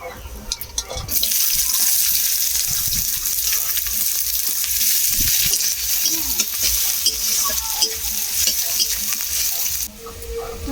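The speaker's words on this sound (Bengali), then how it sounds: "পেঁয়াজটা কিছুক্ষণ ভেজে নিয়েছি" Sliced onions hit hot oil in a pan with a dried red chilli for a shrimp and taro greens dish, setting off a loud, steady hiss and sizzle. Stirring clatters under it, then the sound drops off abruptly near the end.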